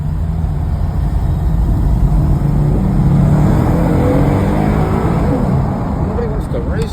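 Car engine revving loudly close by, a rough sustained roar that swells and eases, with a voice heard over it.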